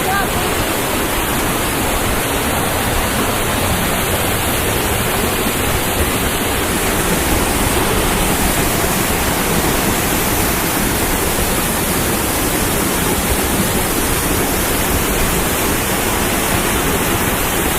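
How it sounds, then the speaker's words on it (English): A waterfall in Bucay, Ecuador roars as a loud, steady broadband rush of falling water, close by and unbroken throughout, with faint speech buried beneath it. "Now this is waterfall number 3, I guess."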